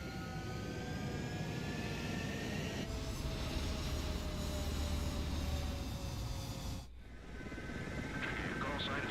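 Jet fighters spooling up and taking off in the video game Ace Combat 7: a loud, sustained roaring engine whine with rising tones that swells midway, briefly cuts out, then resumes, with radio-style voices talking over it.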